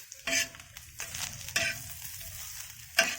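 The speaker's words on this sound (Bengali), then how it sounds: "ক্যাপসিকাম আর পেঁয়াজ ভাজা হয়ে গেছে, এবারে আমি মাংস ভাজাটা দিয়ে দিলাম।" Chicken for rolls frying with capsicum and onion in a pan, a low sizzle underlying a few bright scraping stirs of a spatula at irregular intervals, close and fairly quiet, with no talking.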